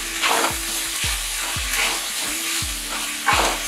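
Mixed vegetables being stirred in a pan for soup, a steady frying sizzle with a spoon scraping rhythmically about every second, close and fairly loud, no talking.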